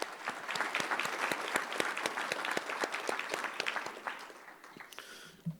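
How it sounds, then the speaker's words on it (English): Applause at a school board meeting for the Magnolia High girls' track team, a crowd of many hands clapping steadily and fairly close, tapering off at the end. "So that's a round of applause for those ladies."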